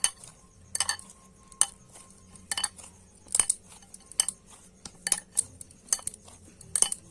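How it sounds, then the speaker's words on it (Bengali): Drumstick-flower (sajne) paratha dough being kneaded with a little oil, giving soft, irregular clinks and knocks of a bowl and utensils, near and moderately loud, with no talking. "আর একটুখানি দিয়ে নিলাম আবারও কিন্তু ভালো করে মেখে নেব"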